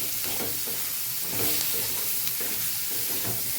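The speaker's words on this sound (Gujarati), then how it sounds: "આપણે એને સાતડી લેવાનું છે સંભારાને।" Sambharo vegetables sautéing in a pan, a loud, dense, continuous sizzle and hiss with soft stirring movements underneath, close up and without voices.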